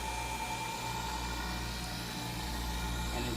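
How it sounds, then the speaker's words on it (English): A vacuum pump runs with a steady, even hum and hiss, constant in level throughout and unaccompanied by speech. "Turned on the vacuum."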